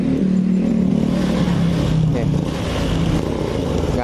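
Honda Beat scooter engine roaring loudly as the throttle is released, a steady close droning rev with shifting pitch, while someone talks over it.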